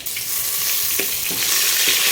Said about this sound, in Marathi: आता इकडे आपला कढीपत्ता पण तडतडतोय